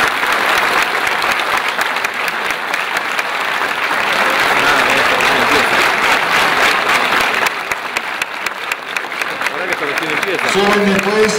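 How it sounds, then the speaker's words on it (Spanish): Loud, sustained crowd applause fills the whole stretch for the pork category winners at an Argentine barbecue championship, with an announcer's voice heard over the clapping. "¡Felicitaciones y aplausos!"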